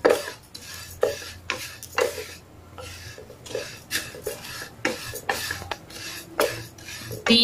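Flattened rice (aval) roasting in a pan for payasam, stirred with a spatula that scrapes and clinks against the metal in an irregular rhythm. A low frying hiss runs underneath the close, clattery strokes.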